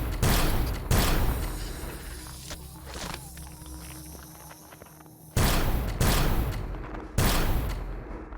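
Turrets fire in the video game Empyrion Galactic Survival, loosing loud, heavy bursts of gunfire in irregular volleys with short pauses between them.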